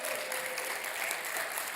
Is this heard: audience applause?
yes